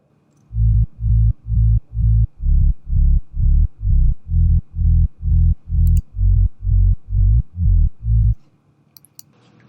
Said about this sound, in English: It's just some sine waves.